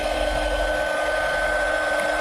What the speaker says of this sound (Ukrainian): Та пробуємо підключити от такий паяльний фен.